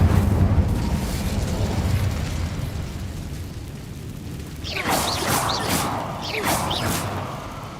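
A fire spell bursts in Hogwarts Legacy: after a low rumbling ambience, two loud whooshing fiery blasts flare up in quick succession near the end.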